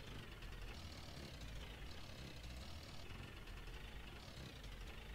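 Car engine running in the video game Jalopy, a low, steady, rumbling hum that persists evenly throughout with no voices.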